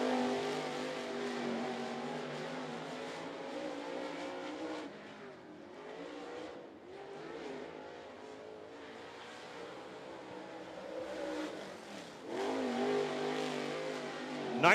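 Race cars roar around Volunteer Speedway during a Carolina Clash race night, a dense continuous engine drone that swells and dips as cars pass through the turns, with no talk over it.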